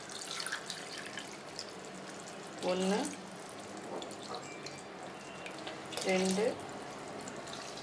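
Water is poured from a tumbler into a cooking pot for prawn biryani in two separate splashing bursts, while a voice counts along quietly.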